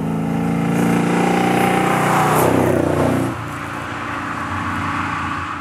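A TVR V8 engine fitted with motorbike throttle bodies revs hard, a loud, sustained engine roar that climbs and holds, then drops back to a steady lower note after about three seconds.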